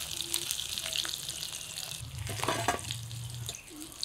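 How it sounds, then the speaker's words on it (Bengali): Pieces of katla fish frying in hot oil in a wok, a steady close sizzle and crackle with a few soft utensil clinks and stirring sounds, no talking. "এই কড়াইয়ের মাছগুলো উল্টে পাল্টে ভেজে নামিয়ে বাকি মাছগুলো কড়াইতে দিয়ে"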